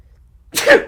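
A single sharp sneeze bursts out after a near-silent stretch, loud and close, tailing off quickly.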